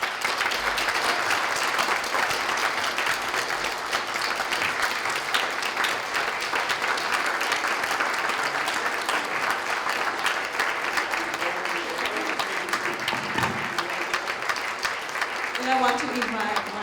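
Sustained audience applause fills a hall at an appreciation awards ceremony, steady dense clapping running for well over ten seconds before thinning out near the end as voices begin to emerge.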